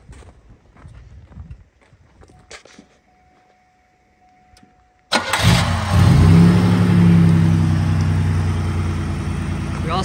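A car engine cranks and catches after a few seconds of quiet shuffling, then settles into a loud, steady idle with a low rumble close by.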